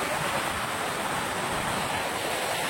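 Sea surf rolls in at RK Beach, Visakhapatnam, as a steady, dense wash of breaking waves mixed with wind rumble, loud and unbroken throughout, with no voices.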